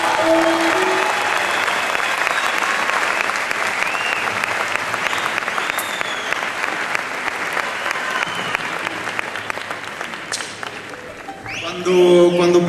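Sustained audience applause for a Chilean folk group at a concert, dense and loud clapping from a large crowd that carries for most of the stretch before a voice comes in near the end.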